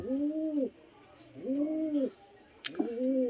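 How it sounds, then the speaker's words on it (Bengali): Kaldum pigeons, a pair kept for cross-breeding with a Matraj, give three drawn-out rising-and-falling coos, close and clear, with a brief sharp click near the end and no talking. "এক জোড়া কালদুমা পায়রা"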